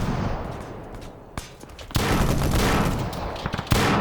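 Dense, sustained gunfire from a video game military operation, broken by a couple of sharp louder shots and swelling into a heavy continuous volley in the second half.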